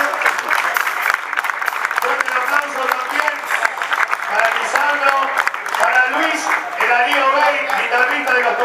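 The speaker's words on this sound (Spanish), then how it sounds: "fuerte el aplauso para él." Enthusiastic audience applause for a guest trombonist at a live music performance, a loud continuous wash of clapping with crowd voices and shouts mixed in throughout.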